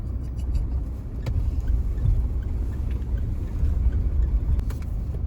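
A Mahindra Thar SUV rumbles along on a road trip, a steady low engine and road drone heard from inside, with a few faint clicks and rattles over the top.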